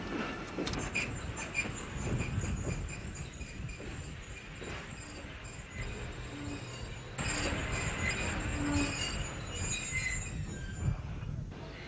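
A train rolls along with squealing wheels and clattering rail noise, a continuous grinding rumble with high metallic screeches, fairly distant and steady, no voices heard.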